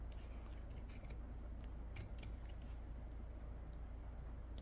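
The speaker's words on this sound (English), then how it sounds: "So what I'm going to do, take my pinking shears," Pinking shears snip through fabric in quick, crisp clicks, a short run of close, faint cuts in a quiet room.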